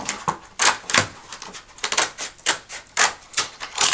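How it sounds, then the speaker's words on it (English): Old scissors snip repeatedly through a hanging file folder close to its metal hanger strip, a quick series of crisp cutting crunches in an uneven rhythm, close and fairly loud, with no talking. "just cut as close as you can to that metal"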